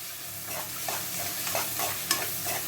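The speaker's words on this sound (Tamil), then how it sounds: "வெங்காயம் வதங்கும் போதே அதில் உப்பு போட்டுடலாம் அப்போ தான் நல்லா வதங்கி வரும்" Finely chopped onions sautéing in a pan for a crab gravy, a steady close sizzle with soft scraping strokes of a spoon stirring every half second or so, alone with no voices.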